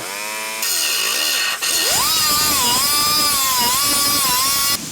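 A power tool cuts through a steel truck frame bracket while installing a Zone 4"/6" lift kit on a 2019+ Chevy/GMC 1500, a loud steady high-pitched whine that rises in pitch and holds after a brief start, with no talking.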